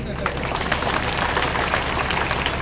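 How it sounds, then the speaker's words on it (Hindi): A crowd at a political rally applauds in a dense, continuous wash of clapping that stays loud and steady throughout, with voices mixed in. "अभी भी ताली कम लगी"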